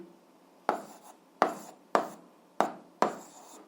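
Someone writes by hand while solving an algebra equation, making five short, sharp pen or chalk strokes at an even pace, close and quiet, with no talking.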